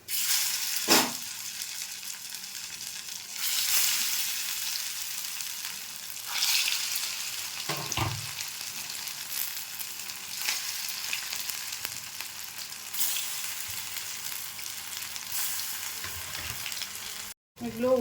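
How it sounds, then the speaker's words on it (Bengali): Flattened-rice (chire) pakodas frying in a pan of oil, a continuous close crackling sizzle that swells and eases as pieces are turned, with occasional stirring scrapes and no voices. "এগুলো উল্টো পাল্টে ভেজে নেব।"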